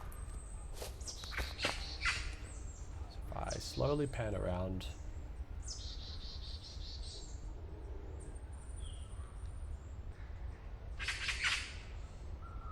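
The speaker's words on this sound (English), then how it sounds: "We should hear the birds that are echoing in one channel stay in that channel." Birds chirp and squawk in short, scattered calls over a quiet outdoor ambience in Unreal Engine 5 quad audio, each bird held in one channel, with someone speaking briefly in the middle.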